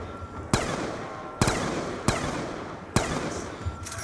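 M16 gunfire in Black Ops 2 on the Buried zombies map, four sharp single shots spaced about a second apart, loud and close, with no talk.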